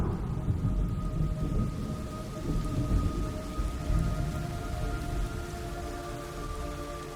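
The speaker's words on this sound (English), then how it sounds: "It's raining blood." Steady rain pours in a Metal Gear Solid Delta: Snake Eater cutscene, with dense rumbling thunder underneath, a constant wash of drops and a low, faint tonal hum throughout.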